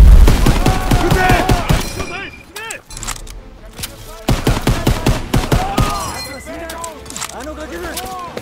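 Gunfire and explosions in the Call of Duty: WWII campaign, shown in the Japanese-dubbed PS4 Pro version: loud, dense bursts of shots and impacts run under shouting voices, and a short lull sits in the middle.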